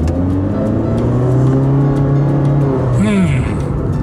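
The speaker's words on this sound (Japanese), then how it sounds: "ちょっと前が空いたので踏み込んでみようと思います" A Honda Fit 1.3L gasoline hatchback with a CVT accelerates under full throttle, its engine droning steadily from inside the cabin while someone talks over it.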